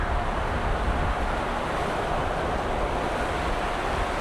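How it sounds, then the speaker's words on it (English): A gust of wind on a dreary, rainy day roars as a steady, dense broadband rush close to a windscreen-covered microphone, holding loud and unbroken throughout with no talking. "There's another gust."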